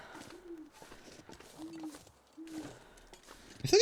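An owl hooting in the survival game The Long Dark, three soft, low hoots spaced about a second apart over quiet ambience, with a sharper sound at the very end.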